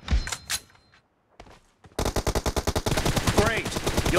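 Rapid automatic gunfire in a team deathmatch video game, a few scattered shots then a dense burst of repeated loud rattling bursts up close, with brief game voice callouts.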